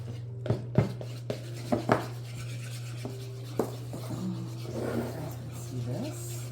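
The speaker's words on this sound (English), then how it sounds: "I'm going to stir that up." A spoon stirs half a cup of water into sourdough starter, giving a few sharp clinks and scraping knocks against the container over a steady hum, then softer rubbing swirls, with speech nearby.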